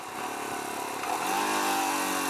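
A Royal Enfield Himalayan motorcycle engine downshifting while riding and slowing, a close steady engine drone whose pitch climbs and holds as the revs rise partway through, with no talking.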